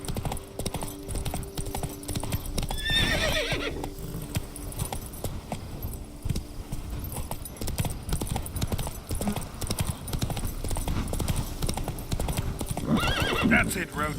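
Roach, a horse in The Witcher 3 set in Toussaint, gallops with a steady, rapid clip-clop of hooves throughout, giving two short whinnies near the start and the end.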